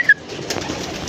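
A pigeon gives a single brief, soft coo with a faint chirp near a rooftop pigeon loft, set against quiet outdoor background noise.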